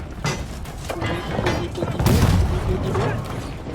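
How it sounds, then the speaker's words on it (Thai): Cannon fire during a siege battle in the video game Conqueror's Blade: heavy booming blasts and thuds with rumbling low end, one especially strong burst midway, mixed with clattering battle noise and voices talking over it. "เอาปืนใหญ่ใส่เลยดีกว่า"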